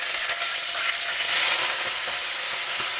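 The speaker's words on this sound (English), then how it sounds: "We turn on the heat to maximum. We fry it for about" Rice frying in vegetable oil over high heat gives a close, steady, bright sizzle with crackling hiss and a short swell of intensity midway.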